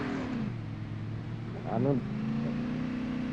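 A motorbike engine in a video game revs up in a brief rising whine under an excited voice speaking over it, with a steady low engine drone throughout.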